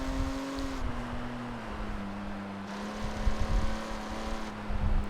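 Interior view of a stock Nissan car cruising in Forza Horizon, with no race transmission fitted: a steady engine drone heard from inside the cabin, shifting pitch with gear changes and revving up slightly near the end.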